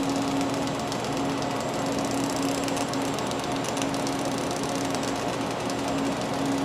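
Steady, continuous welding arc buzz with a constant hum, close and unbroken, from a MIG cap pass laid over a TIG root on a weld joint.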